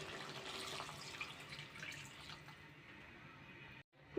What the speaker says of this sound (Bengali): এখন আমি এর মধ্যে দিয়ে দেবো পরিমাণ মতন ঝোল